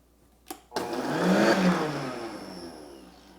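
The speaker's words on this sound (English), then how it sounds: "we're going to blend it in the high-speed blender to get it really fine" Palm sugar whirs in a high-speed blender: a click, then the motor spins up to a loud, steady roar that gradually softens as the sugar grinds fine, with no talking.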